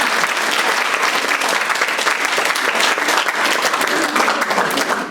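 Sustained applause from an audience at an interactive school event honoring Komitas, dense steady clapping filling the room at constant loudness from start to finish, with no voices standing out.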